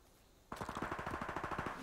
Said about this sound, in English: Wow, my hip fire failed me.